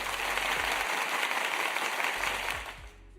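Applause sound effect played at a New Year's Eve party: dense, steady clapping from many hands that fills the clip and fades out near the end.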